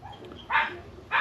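A dog begging for food gives two sharp, close barks about half a second apart over a quiet outdoor background.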